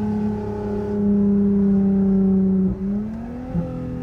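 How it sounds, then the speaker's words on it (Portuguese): Pentastar six-cylinder engine of a Jeep Gladiator Rubicon running with no exhaust fitted, holding a loud raw drone that climbs briefly, then drops with two quick blips of the throttle near the end. "esse motor 6 cilindros, pentastelle, faz um barulho bonito"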